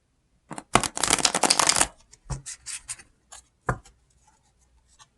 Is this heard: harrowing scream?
no